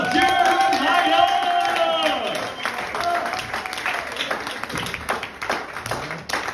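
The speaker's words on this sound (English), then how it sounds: "let's give him a round of applause" Applause and clapping from a small crowd at a hosted show at El Serape restaurant in Shelton, Washington, starting fairly loud with a shout, then thinning out with scattered claps and chatter.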